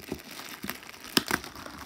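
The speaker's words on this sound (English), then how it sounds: "I just ripped the crap out of this thing and get in there. I don't want this plastic." Plastic bag packaging around a Super7 TMNT Ultimates Mutagen Man action figure is torn open in a few quick crinkling rustles, with one sharp, loud rip near the middle, close to the microphone.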